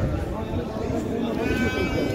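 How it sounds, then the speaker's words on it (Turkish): Sheep bleat amid a busy outdoor livestock market crowd in Şarkışla, Turkey, with people talking loudly throughout and the animal calls mixed into the chatter. "Bu koyunlar var."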